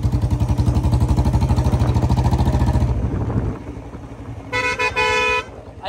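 A Royal Enfield Bullet motorcycle's new horn sounds loud and close as one long buzzing blast, cuts off, then gives a second shorter, higher honk after a quiet pause.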